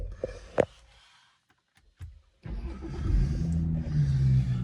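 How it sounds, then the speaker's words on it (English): BMW 340i M Sport Touring engine starting: a brief click and thump, then the engine catches at about 2.4 s and settles into a loud, steady idle close by. "I'll start the car up."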